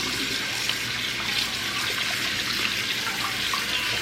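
Cold tap water pours steadily from a kitchen faucet as raw meat is rinsed, a continuous close hiss and splash with no break and no talk.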